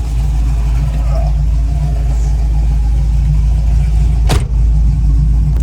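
A 1973 Camaro or Firebird with an LS-swapped LQ4 6.0 V8 drives along, heard as a steady low engine rumble close by, with a brief sharp noise near the end.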